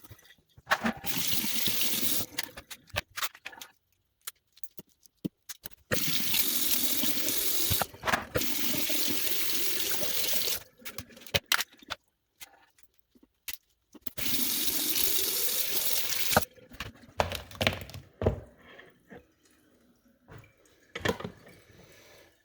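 Tap water splashes over freshly cleaned blue crabs at an outdoor sink, coming in a few long rushing bursts with scattered drips and handling noises in the gaps, close and fairly loud.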